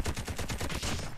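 Rapid bursts of automatic gunfire in the mobile shooter COD Mobile, a steady rhythmic rattle of about ten shots across the span, loud and close with no talking.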